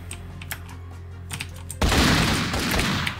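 Video game gunfire in The Walking Battle: a sudden dense burst of rapid shots starts partway through and continues loudly to the end, after a quieter stretch of scattered clicks.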